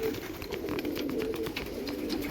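Pigeon let loose into the open sky, with fluttering wing sounds and faint bird activity over a steady band of outdoor background noise; no talking.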